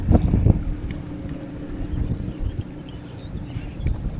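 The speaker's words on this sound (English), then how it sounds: "It's just this wind battle is really tough." Wind buffets a microphone on a bass fishing boat out on the water as a steady low rumble with gusty thumps, loudest at the start, and no voices.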